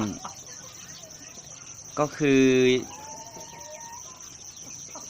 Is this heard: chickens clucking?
yes